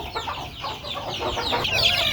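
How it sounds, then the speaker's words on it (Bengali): Young desi chickens, about a month old, clucking and chirping continuously and close by in a rearing pen, with a busy overlapping flock chatter throughout. "এগুলো হচ্ছে পোচা মুরগি এই যে দেখেন"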